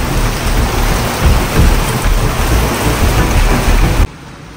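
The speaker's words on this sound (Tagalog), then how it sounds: "ilang oras na nakalipas, umuulan pa rin." Heavy, dense rain roars steadily with low rumbling thunder underneath, then drops off abruptly to a quieter hiss at the end.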